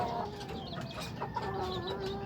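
Chickens cluck softly and repeatedly at a moderate distance, with a quiet background and no talking.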